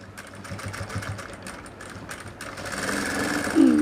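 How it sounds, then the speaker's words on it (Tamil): A sewing machine stitches two fabric pieces together for a chemise, its rapid needle chatter running steadily and close, then shifting to a smoother, louder whir near the end. "ரெண்டையும் ஜாயிண்ட்டு பண்ணி ஒரு தையல் போட்டுக்கிறேன்"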